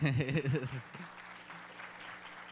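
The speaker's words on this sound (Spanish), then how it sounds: "Pues un aplauso para Gustavo, ¿no?" A voice briefly calls for applause, then the audience at a panel discussion on national drinks claps in a soft, distant patter that fades into room hum.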